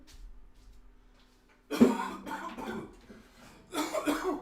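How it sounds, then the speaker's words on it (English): After a quiet start, a few deep, chesty coughs erupt close by, wet and heavy, separated by short pauses. "Ah, chesty cough."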